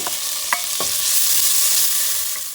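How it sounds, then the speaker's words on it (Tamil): Washed moong dal roasting in ghee in a pan is stirred with a spoon, giving scraping strokes and a few sharp clinks over a soft continuous sizzle, close and fairly loud. "பாசிப்பருப்பு அரை கப்பு அதை வந்து ஒரு தடவை கழுவிட்டு இதை வந்து நல்லா வறுத்துக்க போகிறேன்"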